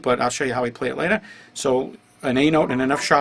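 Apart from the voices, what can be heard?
No distinct noise like a dog, phone or traffic.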